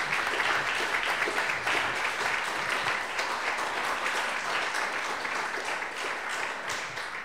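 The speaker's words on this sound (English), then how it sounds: "Let's give Brian another round of applause." An audience claps after a talk, a dense, steady round of applause that fades gradually over several seconds with no voices.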